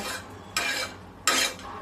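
Onion-garlic masala roasting on an oiled tawa as it is stirred: two sharp bursts of scraping and sizzling against quieter low crackle, close and clear, with no talking.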